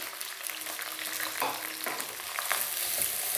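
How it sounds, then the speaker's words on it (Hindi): Chopped onions fry in hot oil with curry leaves in a pan, a continuous close sizzle with occasional scraping stirs and crackles, no voices. "2 दरमियानी साइज़ के मैंने प्याज कटिंग करके इसमें डाल दिए हैं"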